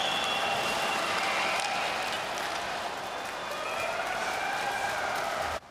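Hockey crowd inside the Bell Centre after a Canadiens playoff loss to the Tampa Bay Lightning, a broad steady roar of many voices with whistling and jeering tones, loud and sustained throughout before cutting off at the end.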